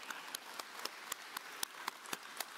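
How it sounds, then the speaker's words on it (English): Sparse, quiet handclapping from a small number of people at a university graduation ceremony, steady separate claps about four per second with no talk over them. "we want to applaud you"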